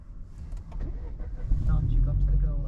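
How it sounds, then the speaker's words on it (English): A car engine cranks and turns over, rising from low rumbling into a steady idle over a couple of seconds, close and fairly loud. "I don't know how to crank the car up."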